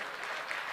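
An audience at a poetry gathering applauds a poet, a brief burst of dense, continuous hand clapping, fairly soft and evenly sustained.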